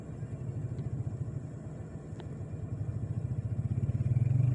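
A motorcycle engine rumbles steadily with a rapid pulsing throb, growing louder toward the end as it draws closer, with no voices.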